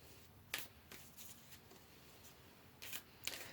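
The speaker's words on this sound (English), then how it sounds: "Let's pull another card here, group number 3." Tarot cards are handled during a reading, with quiet, crisp riffling bursts and card snaps spaced irregularly against a near-silent background.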